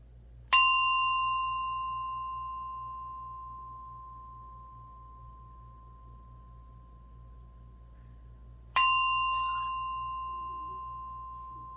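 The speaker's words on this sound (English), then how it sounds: "I am going to ring this bell, and then we're going to begin." A meditation bell is struck twice, about eight seconds apart, each strike a clear bright ding that rings out and slowly fades over a faint low hum, with no talk.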